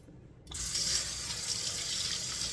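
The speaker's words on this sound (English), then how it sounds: "We'll wash the seasonings off the hand, so we're not making everything dirty when we touch other surfaces." A kitchen tap starts running and hands are washed of beef seasonings under it. A steady close stream of water gushes into the sink after a brief quiet start.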